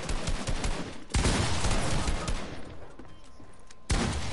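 Rapid assault rifle fire in the Fortnite video game, loud dense bursts of shots with brief gaps between volleys, close and continuous.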